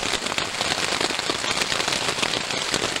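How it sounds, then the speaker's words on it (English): Heavy rain drums densely and steadily on a tent overhead, a loud continuous patter with sharp crackling drop impacts. "It's the first heavy rain I've had all day."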